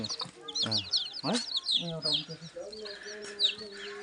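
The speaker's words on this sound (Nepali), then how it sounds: "के रहेछ कुखुरा रहेछ" Chickens cluck and squawk nearby in quick, uneven bursts, with other birds chirping in the background.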